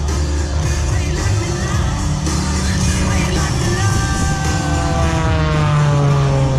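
An MXS-RH aerobatic airplane performing at a Kansas City airshow, its propeller engine droning loudly with shifting pitch sweeps as it maneuvers overhead, continuous and prominent throughout.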